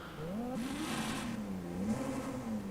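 A powerful truck engine revving in a video game, a smooth rising and falling whine that climbs, dips and swells again, loud and steady throughout.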